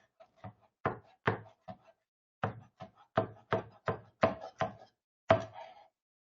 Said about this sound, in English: let's just mince some chives here